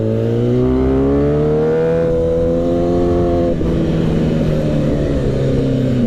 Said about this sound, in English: So that's Buddy coming in the car